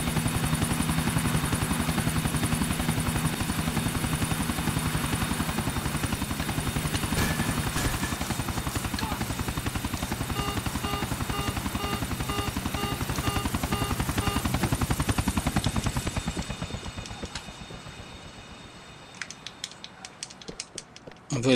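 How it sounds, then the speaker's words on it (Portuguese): A helicopter in GTA 4 on PS3 whirs with a loud, steady rotor chop and mechanical rattle that holds for about fifteen seconds, then fades and thins out toward the end. "pilotando helicóptero aí."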